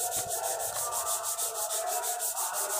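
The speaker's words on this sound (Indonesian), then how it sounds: "ini kita lakukan amplas 36" Car body filler being sanded with coarse 36-grit sandpaper in a small body shop, a steady rhythmic scratchy rubbing that repeats in quick even strokes, close and fairly loud with no talk.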